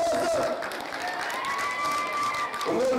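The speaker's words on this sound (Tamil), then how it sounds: "உங்களுடைய கரகோஷங்கள்" Applause and scattered cheers from an audience at a village golden jubilee festival stage, a broad wash of clapping mixed with crowd voices and some talk over it.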